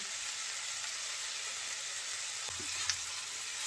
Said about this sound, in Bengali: নেড়ে চেড়ে সব কিছু মিলিয়ে নেব